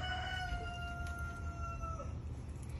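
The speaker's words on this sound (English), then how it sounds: "the rooster in the background is saying it's about time" A rooster crows in the distance, its long drawn-out call rising over a steady low background rumble.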